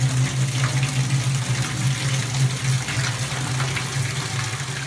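Whirlpool therapy tub filling with water from the hot and cold taps, a steady rushing gush with a low hum underneath, continuous and fairly loud for the whole stretch.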